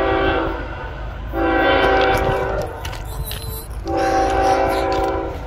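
Florida East Coast freight train sounding its horn at a crossing, with long chord blasts repeated three times over the rumble of the passing train at moderate distance.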